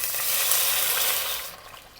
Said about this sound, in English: You add in water.